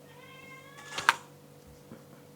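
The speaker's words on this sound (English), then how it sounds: "all the cats have joined us" A house cat gives a short, faint meow with rising harmonics near the start, followed by a brief louder sound, all close by in a quiet room with no talking.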